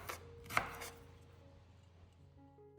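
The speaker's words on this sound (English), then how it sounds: "After that, slice 2 stalks lemongrass." A knife chops through lemongrass stalks on a board, a few quiet close strikes with one sharper cut early on, then a soft fading tail, no voices.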